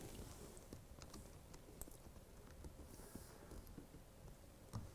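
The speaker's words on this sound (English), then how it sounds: "and I'll type my name in there." Typing on a computer keyboard, a soft patter of irregular key taps with a few sharper clicks, close but faint over a low background hum, no talk.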